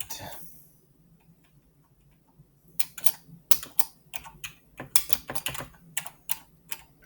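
Fingers type on a computer keyboard, starting after a quiet pause, then a rapid, uneven patter of sharp close key clicks in short bursts. A faint voice is heard at the start.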